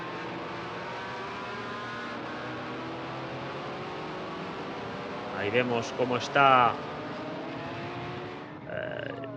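GT4 race cars, including a BMW M4 GT4, circulating on track at Estoril, a steady engine drone with a louder revving pass midway, under continuous commentary.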